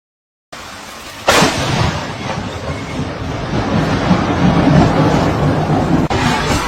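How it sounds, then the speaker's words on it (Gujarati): Lightning strikes with thunder: a sudden loud crack lands after a brief quieter stretch, then a sustained heavy roar and rumble carries on steadily to the end, with no talking. "ये देख सकते हो आप बिजली कैसे पड़ रही है और कैसे तबाही मचा रही है"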